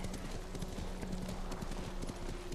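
Rhythmic hoofbeats of a galloping horse in the video game Ghost of Tsushima, steady and fairly close, with a continuous tonal drone of game music and a brief snort or whinny.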